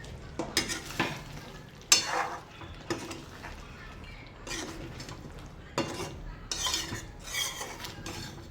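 Tandoori chicken pieces dropped into a simmering gravy in a pot, then stirred, giving repeated spoon scrapes and clatters over a low bubbling sizzle, with no talking.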